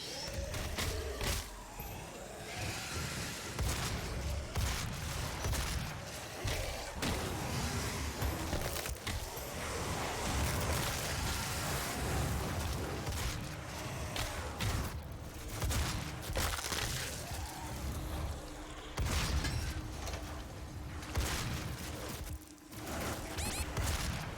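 Gunfire in the video game Doom (2016) on Nightmare difficulty: a dense, continuous wash of game shots, explosions and mechanical clatter, loud and busy throughout, with brief dips near the end.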